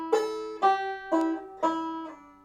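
A guitar plays a bar of the Old Bush Reel, four plucked notes in a steady lilting rhythm, each ringing briefly, close and clean with no voices.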